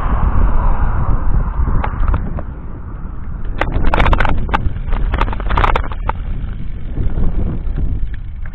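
Strong wind buffets the microphone of a cyclist on a long 140 km summer training ride, a steady low roar with gusty swells and scattered crackles throughout, with no voices.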